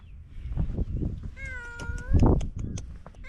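A cat meows a few times on South Korea's second-largest island, one clear drawn-out meow in the middle, close by, over soft rustling background noise.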